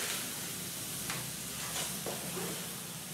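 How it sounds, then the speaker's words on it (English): Chuck roast searing on a hot charcoal grill, a steady, close hiss of sizzling meat with a few soft clicks and shifts as the grill is tended, no talk. "About to get a good sear on right there on this hot charcoal."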